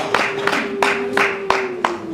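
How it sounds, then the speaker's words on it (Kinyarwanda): Sparse, rhythmic clapping from a church congregation at a wedding ceremony, about six evenly spaced claps over a faint sustained tone, moderately quiet and without clear ululation. "amashyi n'impundu."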